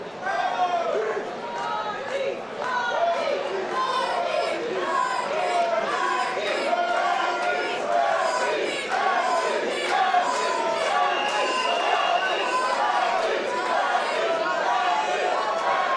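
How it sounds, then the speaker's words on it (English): A boxing crowd in round 5 of a championship fight roars and chatters continuously throughout, a dense, loud arena wash with shouts rising out of it and no single voice standing apart. "Crowd's getting into it, round 5."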